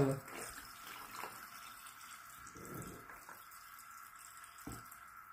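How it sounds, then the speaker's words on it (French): Water trickles and pours quietly into a household appliance, a faint steady flow with a few soft clinks and brief bumps, near but low in level with no clear talk. "j'ai mis beaucoup d'eau quand même"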